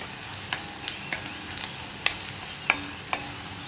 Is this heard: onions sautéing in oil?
yes